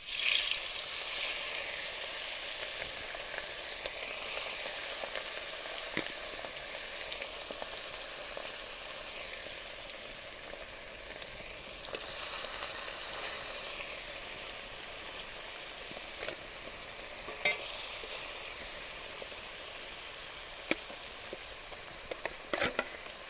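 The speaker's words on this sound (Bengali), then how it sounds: "তেল ভালোভাবে গরম হয়ে গেছে, এবার মাছগুলো ভেজে নেব।" Fish rubbed with salt and turmeric fry in well-heated oil in a rustic village kitchen, a continuous loud sizzle and crackle with occasional sharp pops and spits, no voices.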